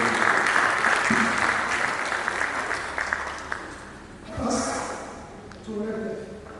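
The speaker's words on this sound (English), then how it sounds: "Please clap for the education." Audience clapping at a University of Ibadan award ceremony, a dense steady round of applause that thins and fades toward the end, with a few voices and small stirs rising near the close.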